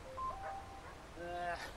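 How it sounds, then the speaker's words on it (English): A mobile phone rings out in a theater audience during a live stage play, its electronic melody of clear, steady tones rising twice at moderate volume while voices murmur underneath. "Someone forgot to silent their phone."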